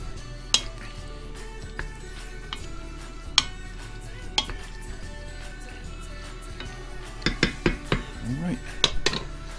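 Beef tallow rendering in a pan in the oven, stirred with a utensil that scrapes and clinks against the metal in scattered taps, building to a cluster of knocks near the end over a low sizzle.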